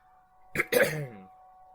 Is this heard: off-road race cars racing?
no